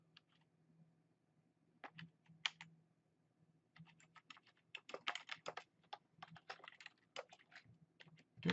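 Keys on a computer keyboard clatter in short bursts, a few isolated clicks early on, then a denser run of quick taps, close and fairly quiet over a low steady hum.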